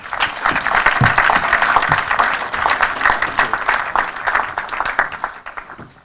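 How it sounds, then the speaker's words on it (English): Audience applause at a live event, a dense wash of many hands clapping at steady loudness that thins slightly toward the end. "please give a fantastic round of applause for Timo"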